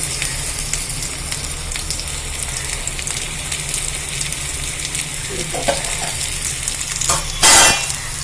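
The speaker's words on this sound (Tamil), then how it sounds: "வெங்காயம் வதங்கிட்டு இருக்கப்ப இங்கே கொஞ்சோண்டு வெல்லம் போடுறேன்." Onions frying in oil give a steady, dense close-up sizzle over a low hum, with a few soft clinks from stirring and a brief louder scrape near the end.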